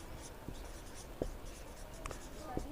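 A pen scratches across paper as a maths teacher writes out a geometry formula, soft strokes with a few sharper taps, heard faintly beneath a quiet room.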